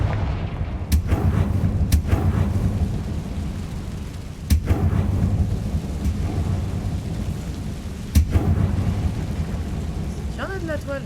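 Confringo fire spell blasts in the video game Hogwarts Legacy: repeated sharp booming impacts, a handful in sequence, over a steady rumbling bed of game ambience, with no talk.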